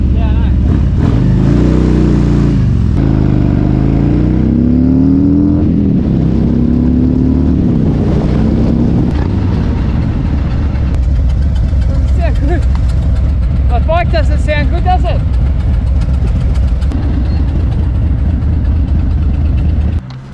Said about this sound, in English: How bad does my bike sound?